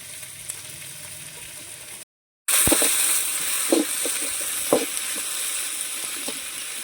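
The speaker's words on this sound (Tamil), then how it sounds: "நல்லா வதங்கட்டும், பொன்னிறமாகிற வரையும் வதங்கணும்." Onions sauté in oil for a village-style rooster curry cooked over a fire. After a brief dropout, a loud, bright sizzle bursts in and holds steady, with occasional stirring knocks and scrapes. No voices.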